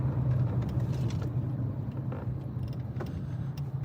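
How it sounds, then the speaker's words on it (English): Road traffic passing at night, a steady low rumble of car engines and tyres with occasional louder swells, moderately close, no speech heard. "Okay, traffic."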